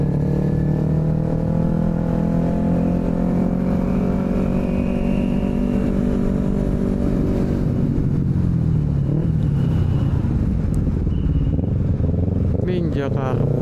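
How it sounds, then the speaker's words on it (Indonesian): Carbureted Kawasaki Ninja motorcycle engine running with a steady, loud harmonic drone that shifts pitch midway as the revs change, heard continuously throughout. "udah jarang tuh yang pakai ninja karbu."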